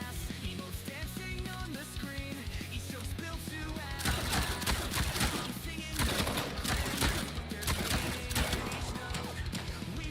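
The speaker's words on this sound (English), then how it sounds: "They don't care about the gunshots at all." Video game gunfire in MindsEye crackles in rapid bursts over steady background music, growing denser and louder in the second half.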